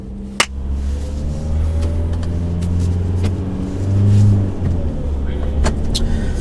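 A SsangYong Rexton Sports pickup cruises on the road with a steady low engine rumble and tire drone, swelling briefly as it accelerates, while someone talks over it.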